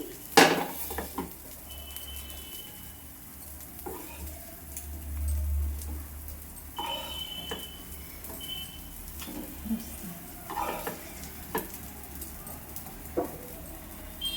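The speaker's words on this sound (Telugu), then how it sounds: "ఈ విధంగా అన్ని బన్స్ని ఫ్రై చేసుకోవాలండి" Pav bhaji buns fry in a pan with a faint, low sizzle, broken by occasional soft clinks of a utensil against the cookware.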